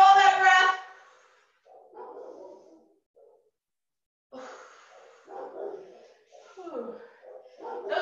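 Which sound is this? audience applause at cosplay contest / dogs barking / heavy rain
dogs barking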